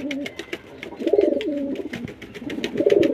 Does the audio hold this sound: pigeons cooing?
yes